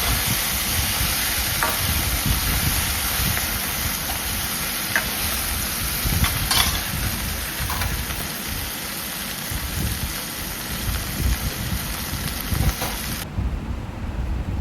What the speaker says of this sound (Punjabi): ਹੁਣ ਆਪਾਂ ਤੜਕਾ ਚੰਗੀ ਤਰ੍ਹਾਂ ਨਾਲ ਤਿਆਰ ਕਰ ਲੈਣਾ